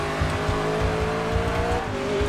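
A race car in TOCA Race Driver 3 brakes hard, its engine droning with a falling pitch and tires squealing faintly beneath, loud and continuous with no one speaking.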